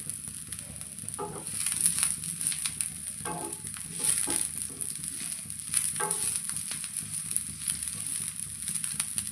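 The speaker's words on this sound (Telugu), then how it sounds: "అందుకనే ముందైతే ఉల్లిగడ్డలు వేయించుకోవాలి" Onions frying on an iron dosa pan, a low steady sizzle with intermittent stirring scrapes and faint crackles, fairly quiet and close.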